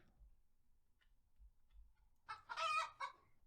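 Chicken clucking in the card game Terracards: after a quiet stretch with faint low thumps, a short loud burst of clucks arrives near the end, close and clear with no talk.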